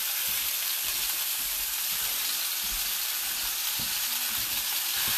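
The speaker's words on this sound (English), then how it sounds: "Ground beef in the pan, already heated." Ground beef fries in heated olive oil in a pan, giving a loud, steady broadband sizzle throughout with faint low knocks underneath and no voices.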